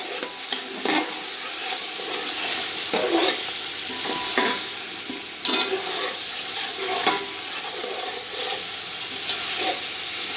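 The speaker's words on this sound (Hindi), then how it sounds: "इसको सिर्फ 1 मिनट के लिए भूनेंगे।" Chicken pulao ingredients with pulao masala fry in a pot, giving a steady sizzle and hiss with repeated stirring scrapes throughout, close and alone.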